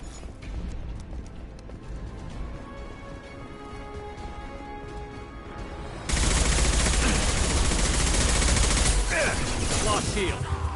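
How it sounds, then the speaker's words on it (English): Assault rifle gunfire in the sci-fi shooter Mass Effect 2: a steady rattle of game combat under the first half, then a loud sustained burst of rapid automatic fire dominating the last few seconds. "I'm gonna switch to the assault rifle for a bit."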